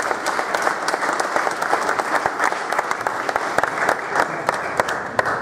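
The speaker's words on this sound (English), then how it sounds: "give him a round of applause" A book launch audience breaks into a round of applause, a steady, fairly close patter of many hands sustained for about five seconds with a few louder individual claps standing out.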